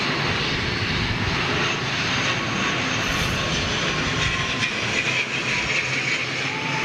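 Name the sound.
ATR 72 turboprop airliner coming in to land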